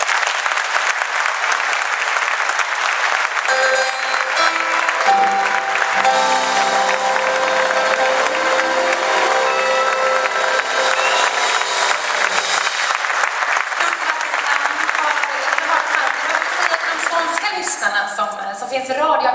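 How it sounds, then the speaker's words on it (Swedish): Loud, dense audience applause from a large crowd at a Swedish award ceremony, steady clapping sustained for nearly twenty seconds, tapering slightly at the end. "Och en stor applåd."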